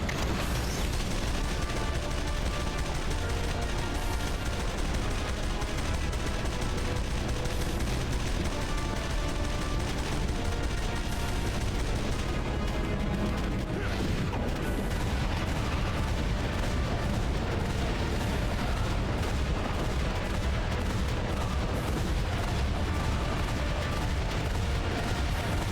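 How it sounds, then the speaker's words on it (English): Missile barrage in Jak and Daxter: The Lost Frontier, fired by Dark Eco warriors: a loud, continuous roar of launches and explosions with mechanical clatter and rapid gunfire, running unbroken. "They're spamming missiles."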